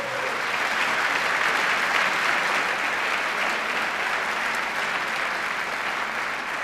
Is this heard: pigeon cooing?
no